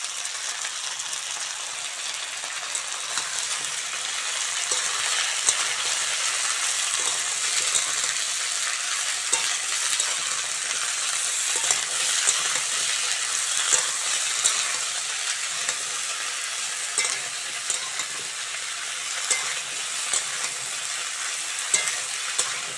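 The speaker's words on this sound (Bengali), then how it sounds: "সবজিগুলো ভালো করে ভাজা ভাজা করে নিয়েছি।" Chopped vegetables stir-frying with lightly fried onion in a pan, a steady close sizzle with scattered clinks and scrapes of a stirring spoon throughout, no voices.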